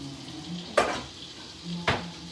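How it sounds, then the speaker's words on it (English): Half a stick of butter melts in a pan, giving a soft, steady sizzle close by, broken by two sharp clinks of a utensil against the pan. "So this is my butter over here melting, my little half a stick of butter"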